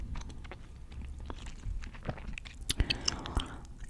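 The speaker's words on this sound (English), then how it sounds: "you don't even know how hard I'm trying to gently chew this gum" Gum chewed gently up close, soft wet smacks and clicks in a steady irregular rhythm, getting a little sharper and louder toward the end, with no talking.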